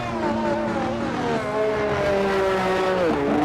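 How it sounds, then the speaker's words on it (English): A sim-racing car on the Baku street circuit, on an out lap on fresh tyres: a steady, loud engine drone holds throughout, with gear-shift pitch drops and no talking. "Higgs is back out on the track with a new set of boots on, having an out lap"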